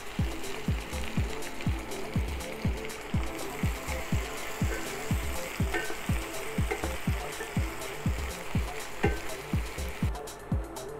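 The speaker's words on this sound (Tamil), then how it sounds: "கொஞ்சம் வறுபட்டதும் நம்ம நறுக்கி வச்சுருக்கிற வெங்காயத்தை அதோடு சேர்த்துடும்." Cinnamon, cloves and chopped onions frying in a pan for prawn gravy, with a steady sizzle and rhythmic scraping from a spoon stirring about twice a second.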